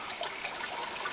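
Water trickling steadily into a container as a pineapple top is set in shallow fresh water, a soft continuous close pour with no talk.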